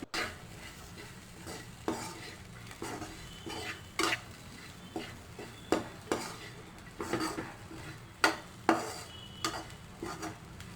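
Grated coconut being stirred into a snake gourd stir-fry in a pan, a spoon scraping and knocking against the metal in irregular strokes, with a soft sizzle underneath.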